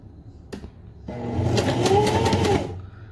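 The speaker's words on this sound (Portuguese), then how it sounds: "Dou 3 pontinhos pra trás, solto o meu retrocesso e aí eu continuo voltando pra frente." A sewing machine runs in short reverse stitches, then forward again, a steady close mechanical whir that rises and holds for about a second and a half before stopping, with a few light clicks beforehand.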